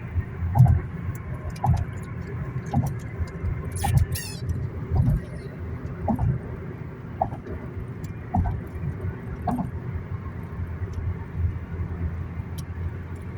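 A car driving along a road, heard from inside: a low engine rumble with regular soft thumps about once a second, and a brief metallic jingle early on.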